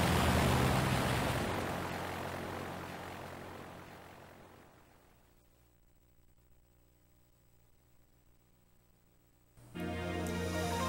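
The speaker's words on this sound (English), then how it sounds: "contact Skyla, so please board the plane and wait." An airplane in the Pokémon Black 2 video game, heard as a loud broad engine roar that gradually fades to near silence, followed by an abrupt return of louder game sound near the end.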